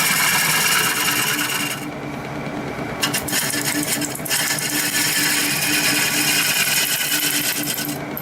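A Carter and Son cutting tool shaving wood on a lathe produces a loud, steady close-up rasping scrape that holds throughout with slight dips in intensity and no voices.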